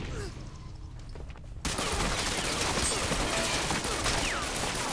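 Gunfire in the shooter game Ghost Recon Online, a dense burst of rapid shots that breaks in abruptly after a quieter opening stretch and then keeps going, loud and continuous.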